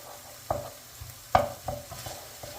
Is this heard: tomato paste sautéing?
yes